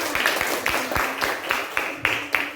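A small group of students claps in a classroom after one of them answers, quick uneven claps with distinct sharp hits roughly every quarter second, close and lively for under three seconds.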